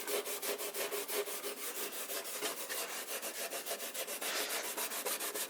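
Antique timber rubbed back with 00 steel wool to lift old shellac makes a brisk, rhythmic scrubbing of quick back-and-forth strokes, close and steady, with no voices.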